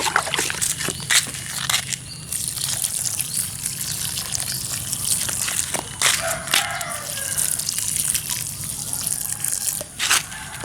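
Liquid MOL (local microorganism fertilizer) poured over young chili seedlings intercropped with pak choy: close, continuous splashing and trickling water, broken by sharper drips and spatters at irregular moments.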